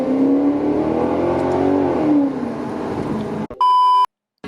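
A 2019 Maserati GranTurismo engine revs up and falls back in a loud, close, rising snarl, then cuts off abruptly and a sharp electronic beep follows.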